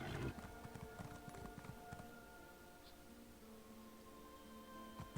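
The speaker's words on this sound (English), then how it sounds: "I'm just going to hop on my horse and head to the Outlaw's Refuge" Horse hooves clip-clop in a steady trotting rhythm as a mount is ridden in the Elder Scrolls Online game, moderately close over a bed of ambient game music, with no voices.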